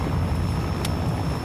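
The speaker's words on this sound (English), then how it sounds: "the plane finally touches down" A rescue plane carrying dogs from an island lands, its engines giving a loud, steady roar that drones on without a break.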